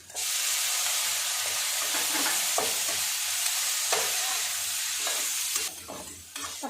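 Tomatoes and onions sauté in a pan with a continuous loud hiss and sizzle, broken by faint scraping stir sounds; it drops off briefly near the end and then resumes.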